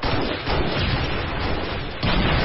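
Sniper gunfire in a video game: a dense, loud, continuous wash of battlefield shots and blasts with no clear gaps, swelling sharply again near the end.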